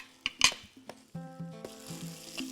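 Curry leaves hit hot oil for a village-style duck curry with crushed dried red chillies, giving a short crackling sizzle with a few utensil clinks against the pan, over a soft tonal background.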